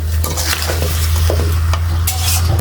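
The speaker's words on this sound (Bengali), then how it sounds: "চিনি দিয়ে আমি ভালোভাবে মিশাই নেব" Sugar is stirred into mango pickle in a pan, a spoon scraping and clinking steadily against the metal with a soft sizzle underneath, close and alone.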